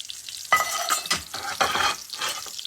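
Breaded Wiener schnitzel frying in a pan as the breadcrumbs brown, with loud bursts of sizzling and stirring clatter recurring in several waves, close and without talk.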